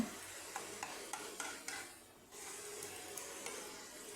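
Leaf curry of gandal leaves with ground paste being stirred in a pan. The sizzle is soft, with a few light taps of the spoon and a short quiet pause in the middle. No one speaks.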